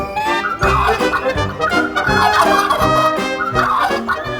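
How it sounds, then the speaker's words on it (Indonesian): A turkey gobbles loudly and close, a rapid warbling, rattling call repeated in several bursts with brief pauses between them. "Yap, kalkun."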